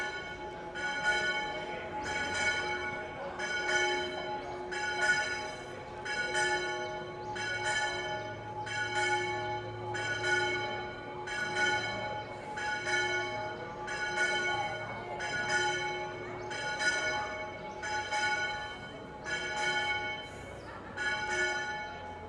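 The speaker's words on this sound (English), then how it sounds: "I'm going to wait till the church bells stop" Church bells in Spain ring in repeated strokes with a bright, ringing tone, sustained for over twenty seconds at moderate distance and steady loudness, with no talking.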